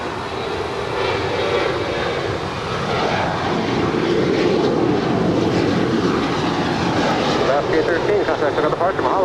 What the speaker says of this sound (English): Our next departure is Alaska Airlines Flight 813 heading to Kahului. It's a 737-800.